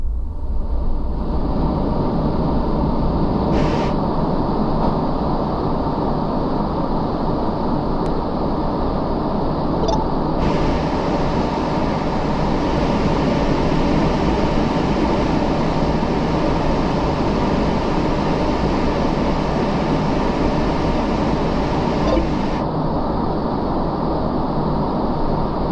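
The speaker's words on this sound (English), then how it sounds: "I'm going to play some white noise" Steady, loud broadband hiss of white noise plays without a break through Nothing Ear 1 earbuds with noise canceling, holding an unchanging level throughout.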